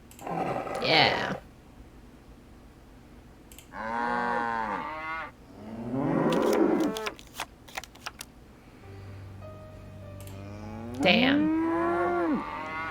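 Several separate cow moos from a Nancy Drew: The Captive Curse minigame sound one after another, with clicks and a low hum between them; someone talks at points over the game sounds.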